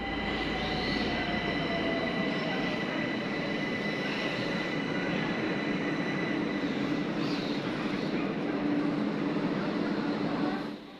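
A Tehran metro train runs steadily with a loud, continuous rumble and rail noise throughout, and faint wheel squeal rises above it.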